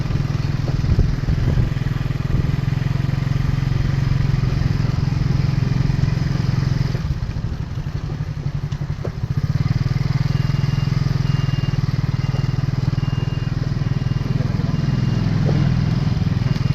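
Motorcycle engine running steadily while riding along a rough, bumpy island road on Doong Island, loud and close with a constant mid-range drone and rattling clatter, briefly easing off midway before resuming.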